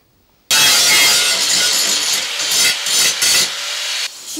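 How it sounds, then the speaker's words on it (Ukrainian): A 69-year-old builder sands the body of a homemade dream car, a steady loud abrasive hiss running with brief dips and surges as the sander moves across the panel. "шліфує машину своєї мрії"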